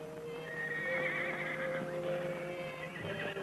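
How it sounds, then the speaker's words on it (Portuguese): A horse neighs in a long, wavering whinny set against a quiet farm corral at dawn, moderately distant, with faint background hum and no talk. "Parece que escutei um cavalo."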